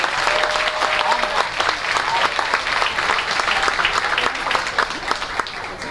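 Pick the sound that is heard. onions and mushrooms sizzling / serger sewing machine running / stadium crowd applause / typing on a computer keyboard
stadium crowd applause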